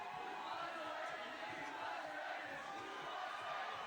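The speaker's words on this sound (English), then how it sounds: "Crowd's chanting USA." A crowd at a bouldering World Cup final in Vail chants USA, a rhythmic roar that sounds distant and washed out, steady for several seconds with no nearby voices.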